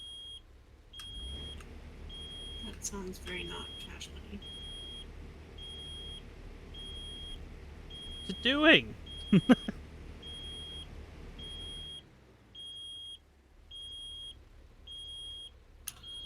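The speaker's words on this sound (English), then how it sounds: "That's my truck's beeping at me." Repeated electronic warning beeps from a truck that won't shift out of park, over a low engine rumble, with a person talking briefly in the middle.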